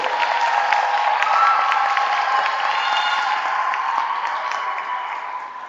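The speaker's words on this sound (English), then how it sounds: "you can give them a round of applause" Audience applause at a 2015 Indiana Statehood Day ceremony, steady clapping from a crowd that holds even throughout and fades slightly toward the end, mid-distance with no talking over it.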